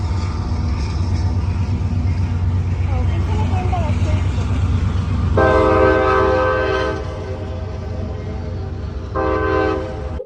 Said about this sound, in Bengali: ট্রেন যাচ্ছে ট্রেনের আওয়াজ শুনতে পেলাম